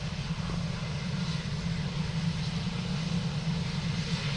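Aircraft engine running steadily during a test on an airfield runway, a loud continuous low-pitched drone held close throughout with no voices.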